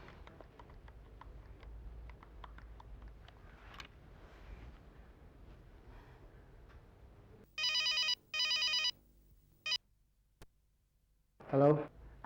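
A telephone rings in two loud bursts of a double-ring pattern during a late-night call home, following quiet background murmur, with a fainter ring at the end.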